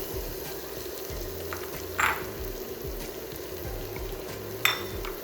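Slurry being whisked into beef gravy in a hot pan, a steady sizzle and bubbling with soft stirring scrapes and a couple of sharper clinks of the whisk against the pan.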